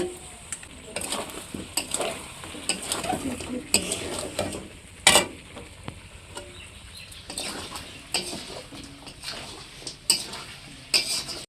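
A spatula scrapes and clinks through masala with fried potatoes and ginger in a pan over low heat, irregular stirring strokes over a soft, constant sizzle, close up and without talk.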